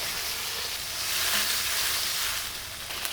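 Tomatoes sizzle in hot oil in an open karahi, a dense continuous frying hiss that swells slightly midway, close and steady with no talking.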